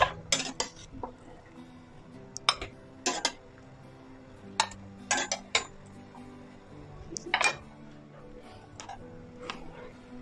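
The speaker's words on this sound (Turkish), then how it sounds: "Haşlamış olduğumuz kabaklarımızı tenceremizden çıkartıyoruz." Sharp metallic clinks and clatters of utensils against a pot as boiled zucchini is lifted out, in scattered bursts over a quiet kitchen background.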